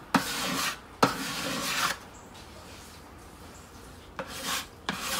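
Close-up rasping and rubbing on wood in several bursts, like scraping and sanding strokes, with quieter pauses between them; no voices.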